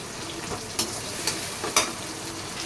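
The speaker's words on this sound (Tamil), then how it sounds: "தக்காளியும் நல்லா வதங்க நான் நசுக்கி விட்டுக்கிட்டே இருப்பேங்க கரண்டி வேலை சீக்கிரமாக வதங்கணும்" Tomatoes sautéing in a pan for a bitter gourd curry, pressed and mashed with a ladle: a steady low sizzle with a few sharp scraping clacks of the ladle against the pan, close by and without talk.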